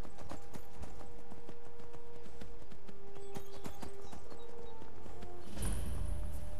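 Horse hooves in Skyrim pound in a fast, steady galloping rhythm, loud and close, over a background of game music, with a brief rushing burst near the end.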